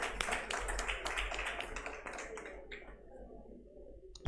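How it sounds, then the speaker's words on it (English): An audience applauds a speaker at a Nigerian Bar Association Ikeja Law Week event in a hall; the clapping is dense at first, then thins and fades out over a few seconds. "Please, a round of applause for him"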